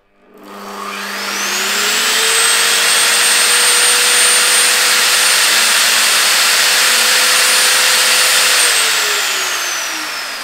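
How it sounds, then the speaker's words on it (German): A Bosch GTS 635-216 table saw spins up to a steady, even whine and hums smoothly for several seconds without rattling, before starting to wind down. "die Säge hört sich auf einmal gesund an und rappelte nicht mehr so rum"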